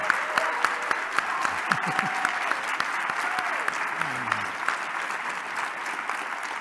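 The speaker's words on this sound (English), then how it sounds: "stand up and give this man a round of applause" Sustained audience applause fills a conference expo hall, with a few whoops and scattered voices over the steady clapping.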